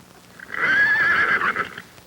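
A horse whinnies clearly up close, one long neigh with a wavering pitch that swells and fades, over faint background noise.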